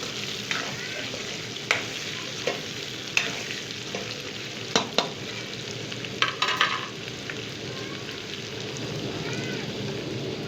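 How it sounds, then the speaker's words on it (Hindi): Green garlic sizzles in a hot pan as the base for degi-style chicken korma, a constant crackling fry with occasional sharp clinks of a spoon against the pan. "तो हरी लहसुन मैं डाल रही हूँ। ये थोड़ी सी भुन जाए"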